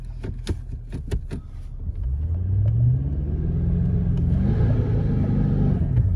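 Car engine strains and revs while the vehicle sits bogged in full drive on an off-road track, a steady loud low rumble rising in pitch after a few faint knocks and holding continuously to the end, with no talk.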